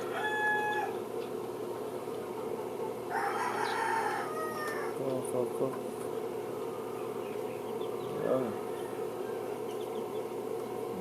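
A rooster crows a few times in a backyard amid a steady buzz of insects, with other faint bird calls scattered through the background.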